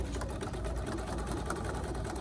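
Sewing machine stitching a rubber jar gripper, a rapid, even mechanical whir with fast repeated needle ticks, steady and close, with no talking.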